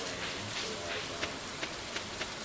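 Rain falling in the Stardew Valley game, a steady soft hiss of rainfall with a few faint periodic taps, fairly quiet and continuous.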